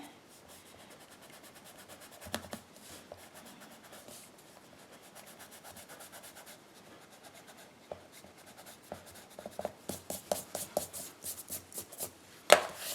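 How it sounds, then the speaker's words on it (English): A pencil eraser rubs back and forth over a card while a holiday card is being made, the scrubbing quiet at first and then quickening into louder, rhythmic strokes near the end; no one speaks. "let me erase this line."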